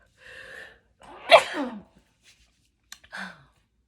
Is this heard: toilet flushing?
no